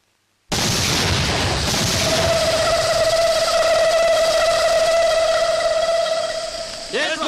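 An explosion in a Tamil comedy film scene erupts suddenly from silence into a loud, sustained roar with a high ringing tone held over it, then tails off near the end.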